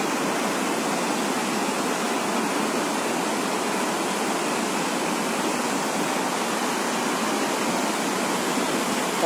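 Sea water rushing and churning around people standing in the sea during stormy weather, a dense, constant, loud wash of roaring water with no breaks and no voices.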